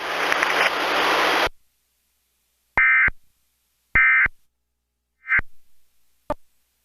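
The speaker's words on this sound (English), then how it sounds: "The following tones will conclude the test." Emergency Alert System test: a burst of harsh noisy static gives way to silence, then a few short, identical electronic beeping tones spaced about a second apart.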